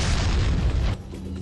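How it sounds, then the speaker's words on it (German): A grenade goes off in Resident Evil 4 with a loud, broad boom that rumbles for about a second, then cuts to a quieter game ambience with a low tone. "Granate!"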